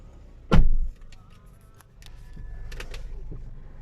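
A 2021 Haval Jolion 1.5T turbo petrol engine starts with one loud, close burst of cranking and firing, then settles into a steady idle beneath cabin noise.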